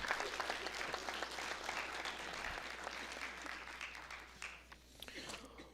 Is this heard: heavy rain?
no